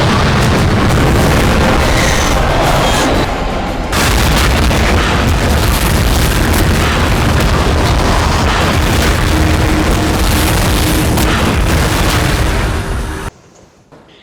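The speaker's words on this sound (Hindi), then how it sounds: "बारूद बरसाती तोपें, धुआं उड़ाते टैंक, ट्रकों की कतार" Artillery guns and tanks in a Chinese military drill, a loud continuous barrage of booming blasts and rumble, close and dense, dropping away sharply at the very end.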